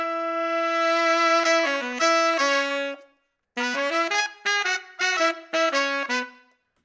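A horn section plays short phrases from a song demo: sustained brassy chords, a brief pause, then several punchy stabbed notes, clear and alone.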